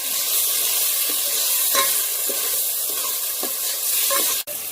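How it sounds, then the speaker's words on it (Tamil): Tomato and onion with a pinch of rock salt stir-fry in a pan for egg curry, a steady close sizzle broken by soft scraping stirs, with no talking. "அதை போட்டு பச்சை வாடை போகிற அளவுக்கு நல்லா கிளறணும்"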